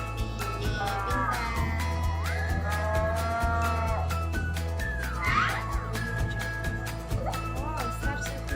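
A cow moos in long, drawn-out bellows, loud and close, played during a children's animal-sound learning game, with a steady low drone underneath.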